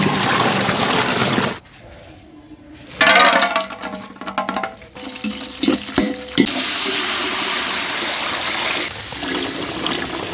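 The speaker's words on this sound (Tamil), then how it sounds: "அரிசிக்கு தண்ணி ஊற்றிக்கலாம்." Water pours and splashes into a large batch of rice set to soak for Dindigul mutton biryani, loud gushing bursts broken by quieter pauses and clinks.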